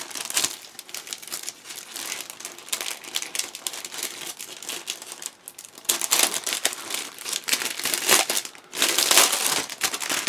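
Large plastic bags from an RPG Model 1/35 T-80U tank kit crinkle and rustle close by as the kit is unboxed, a steady crackling handling that keeps going and grows louder in places.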